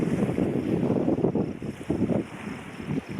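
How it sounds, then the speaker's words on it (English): Strong wind gusting across a lake in Montana, with broadband rushing noise and wind buffeting on the microphone that swells and eases in bursts over choppy waves, loud and close throughout with no voices. "The wind is blowing really hard and I thought it was cool just to see the waves."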